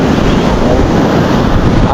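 Ocean waves wash against a shore where driftwood lies, with a steady loud roar and wind buffeting the microphone throughout, carrying no clear separate breaks.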